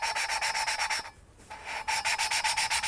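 Valve on a Harley Davidson Shovelhead engine being lapped into its seat with grinding compound, a steady rhythmic gritty rubbing in quick back-and-forth strokes, close and loud, with a brief pause midway.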